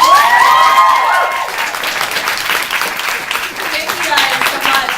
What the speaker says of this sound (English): Can we get a round of applause for Miss G and Anne-Marie